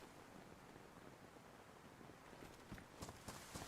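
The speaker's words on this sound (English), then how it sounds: "Footsteps." Faint footsteps in DayZ on the Chernarus map, a few soft steps rising near the end over steady rain-like noise, no talk.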